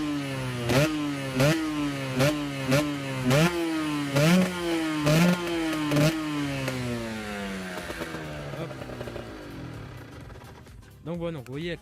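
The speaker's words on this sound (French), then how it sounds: "Après pour la moto, bon on va essayer de la démarrer un petit peu." A motorcycle engine is started and revved in a series of rapid rising and falling bursts, loud and close, then settles into a rough, uneven idle.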